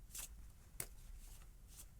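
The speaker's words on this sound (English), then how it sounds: "this is kind of fun, just shuffling cards" Playing cards shuffled by hand in a quiet room, a few soft riffling bursts spaced apart, close and faint.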